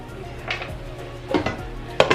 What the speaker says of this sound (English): I'm gonna put the lid back on and let them go ahead and cook down with the peppers